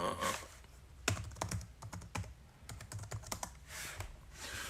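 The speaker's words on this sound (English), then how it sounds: "Sorry, I'm over here typing away." Bursts of typing on a computer keyboard in a workshop, irregular clusters of close key clicks separated by short pauses, with a soft background hiss and no talking.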